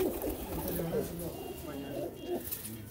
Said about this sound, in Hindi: देखें जी आपको हम घूमते हुए कबूतर दिखा रहे हैं